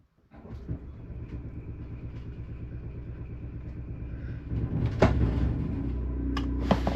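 A generator hooked to an inverter setup cranks and settles into a low, steady engine rumble, then a louder knock and a step up in hum mark the switchover, heard close with no voices.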